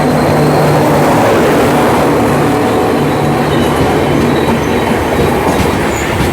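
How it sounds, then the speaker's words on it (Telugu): The Gomteshwara Express between Yesvantpur and Mangaluru running loud and close, a steady rumble and rattle of coaches with rhythmic wheel clatter and faint squeal, heard without talk. "మన ట్రైన్ మీరు ఇలా చూసేచ్చు ఫుల్గా."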